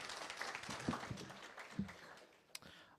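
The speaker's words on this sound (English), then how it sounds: "Another round of applause for Mr." Applause from a gala audience honoring a Golden Apple award-winning teacher, a dense, steady patter of clapping with a few sharper individual claps standing out, moderately distant.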